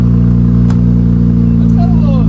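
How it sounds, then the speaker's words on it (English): An Infiniti Q50 3.0t with a Tomei Expreme Ti titanium exhaust idles right after its first startup, giving a steady, low, close-up rumble that holds evenly throughout, with faint higher chirps near the end. "gonna go ahead and get that first startup action right now"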